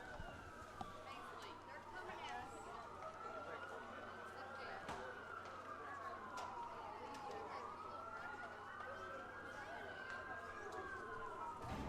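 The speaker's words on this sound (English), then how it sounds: "Sirens all over the place here" Emergency vehicle sirens wail and sweep in repeated rising and falling cycles near a baseball field in Casey Field, fairly distant and steady, with game noise beneath.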